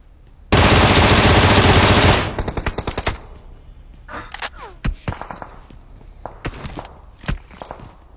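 Gunfire in the mobile battle-royale game PUBG Mobile: a dense, loud burst of automatic fire lasting about two seconds, then a run of rapid single shots trailing off into scattered, sharper distant shots and faint footstep-like clicks.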